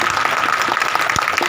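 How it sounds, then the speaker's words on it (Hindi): A church congregation claps hands together during a fire prayer service, a loud, fairly even patter of many palms in a steady rhythm close by. "ऐसे ताली बजाओ, मजा आएगा"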